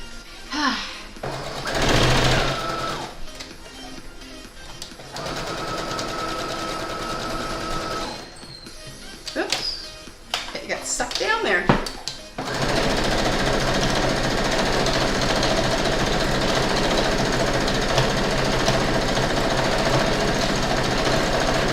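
A sewing machine stitches a Halloween bat quilt block, running as a steady, continuous whir through the second half after people chat over quieter handling sounds.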